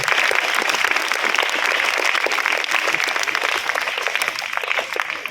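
Loud, sustained audience applause at a community charity event, many hands clapping densely and evenly from start to finish.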